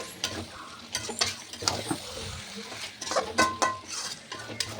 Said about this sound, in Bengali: এবার মাংসটা আমি ভালো করে কষিয়ে নেব।